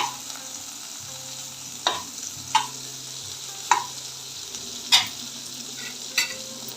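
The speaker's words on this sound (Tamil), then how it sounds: "இது வந்து அப்படியே நம்ம வந்து ஃப்ரை பண்ணி எடுத்துக்கலாம்." A sandwich fries in a pan with a soft, continuous sizzle, broken by about five sharp scrapes or taps of a utensil at irregular intervals, close by and with no talking.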